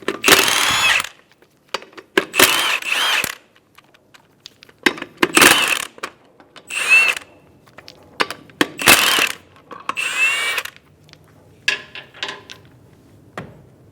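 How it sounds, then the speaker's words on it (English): An impact tool with a 19mm socket spins off the lug nuts on a 2000-2007 Ford Focus in several loud, close whirring bursts, each separated by quiet gaps and light clinks of metal. "remove the 4 lug nuts"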